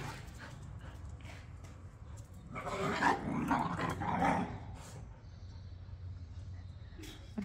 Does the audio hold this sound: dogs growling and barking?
yes